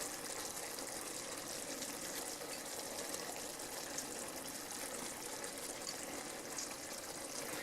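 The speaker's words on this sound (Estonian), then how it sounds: "Ja siis ma kallan nüüd tulist vett nii palju peale, et ta on kaetud ja isegi natukene üle." Hot water poured from a pot or kettle over washed pearl barley in a cooking pot, a steady hissing gush that runs evenly and close by for several seconds, with no talking.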